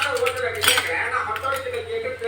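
Egg fry with ponnanganni greens being stirred in a pan, a spoon scraping and clinking against the metal in quick, close strokes, with a voice talking softly over it.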